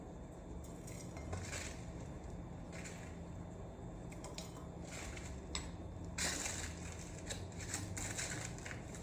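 A fork scrapes and clinks against a pan while coffee granola is being stirred, with quick metallic rasps over a continuous low background hiss.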